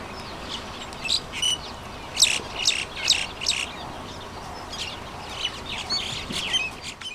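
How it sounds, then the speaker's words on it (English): Several birds chirp and tweet in short bursts over a steady outdoor hum, with a few clucking fowl mixed in at moderate distance, on a cool morning by the Boteti River. "There are a lot of birds in while the morning is cool."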